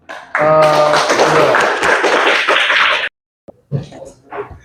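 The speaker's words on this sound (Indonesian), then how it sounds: "Kita beri aplaus untuk kelompok" Audience applause for a presenting group at a university teaching assessment session, a loud burst of clapping for about three seconds, then some speech.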